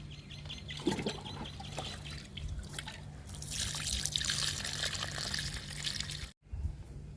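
Liquid fertilizer poured from a container onto a curry leaf plant in a sunny garden, heard as a continuous close trickle and splash that grows fuller partway through and then stops abruptly, with no talking.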